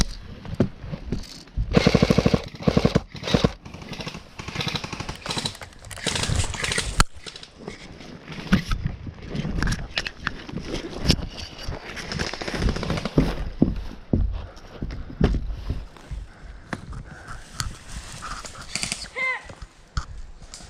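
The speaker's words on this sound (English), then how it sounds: "I need you to shoot them, Ronnie" Airsoft guns, including an MP5, fire in rapid clattering bursts outdoors, the loudest volleys early and then scattered shots, with players talking and calling out between them.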